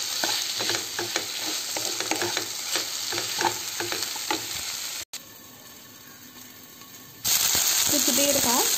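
Dum aloo potato curry is stirred in a pan with repeated scraping strokes over a steady sizzle; the stirring stops briefly, then a louder, brighter frying hiss takes over toward the end.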